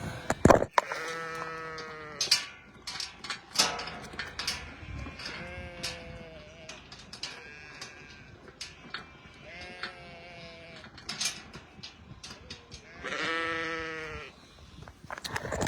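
Ewes bleating on a farm before being turned out to the fields with their lambs, several loud wavering calls from close by, spaced out with short gaps, overlapping at times, with no voices.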